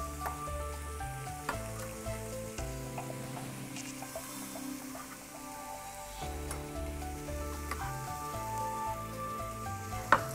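Fish sizzles on a T-fal OptiGrill electric contact grill, a soft steady crackle and hiss with faint clicks and a small knock near the end, no talking.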